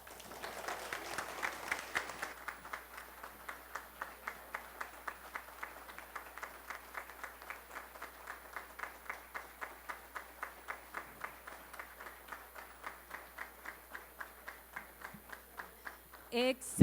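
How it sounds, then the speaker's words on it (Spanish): Sparse, hesitant applause from an audience in a conference hall, a steady run of individual claps at an even rhythm that stays fairly soft and thin throughout, ending with a louder burst. "Ese aplauso está muy tímido."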